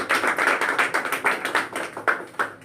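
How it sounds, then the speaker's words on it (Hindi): An audience claps to welcome newcomers at a business gathering, a few seconds of uneven, fairly sparse handclaps in loose rhythm, moderately close and without talk. "एक बार पुराने लोग इनको अच्छे से ताली बजा करके इनका स्वागत कर सकते हैं"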